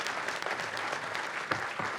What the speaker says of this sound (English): So a round of applause for our winners, the Fireman Sam people.